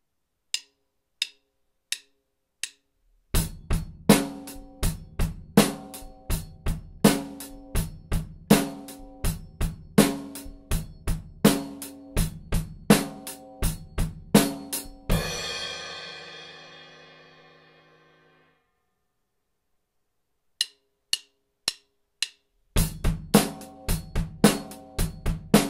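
An 8th-note rock drum beat with bass drum on 1 and the and of 3, steady hi-hat pulse, playing in a long run after sparse clicks, ending on a ringing crash before the groove restarts.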